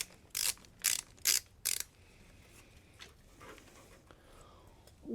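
A ratchet clicks in four quick bursts, loosening bolts on the bottom cover of a Mopar engine, followed by quieter shop handling sounds.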